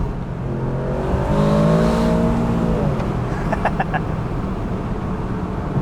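An Aston Martin DBX 707 SUV engine accelerates with a rising, whistling turbo tone over a steady roar, close and continuous, with a few brief chirps partway through.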